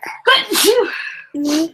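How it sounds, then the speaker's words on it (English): A single loud, close sneeze with a sharp intake and burst, followed by a brief voiced exhale. "I have a horrible cold, so I'm going to sneeze"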